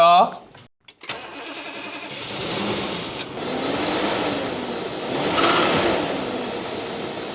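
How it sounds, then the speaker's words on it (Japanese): A 3400cc V8 engine in a first-generation Toyota Century starts with a sharp crank, then idles and revs in a couple of long swelling surges, loud and close. "せっかくだからよ、エンジンも聞いてみるか音。 V8 のサウンドを聞いてみたいですね。"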